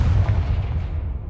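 A heavy, low booming blast from the Confringo spell in Hogwarts Legacy rumbles loud and close, a single deep explosive burst that sustains and slowly fades.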